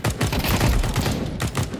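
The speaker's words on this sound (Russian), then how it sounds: "Сейчас будет флешка." Flashbang grenade going off in Counter-Strike 2, a loud, dense burst of blast noise that crackles and rumbles for nearly two seconds, close and filling the whole moment with no talk.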